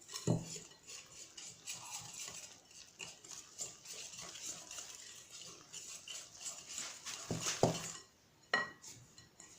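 Four egg whites, 170 g, mixed in a bowl with a utensil, giving quiet intermittent clinks and scraping stirs against the bowl, with a couple of sharper knocks near the start and end.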